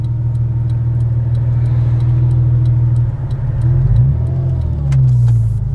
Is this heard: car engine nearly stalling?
yes